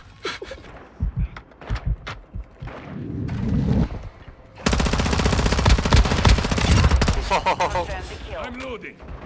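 Rapid automatic gunfire from the video game Call of Duty: Modern Warfare 2 bursts out loud and dense in the second half, after scattered shots and some breathy vocal sounds earlier.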